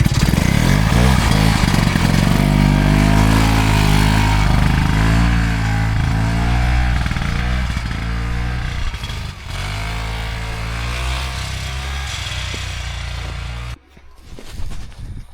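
Restored ELAN motorcycle on a shakedown ride around a field, engine running loudly and close with rising and falling revs, throttle blips and steady pulsing exhaust, cutting off abruptly near the end.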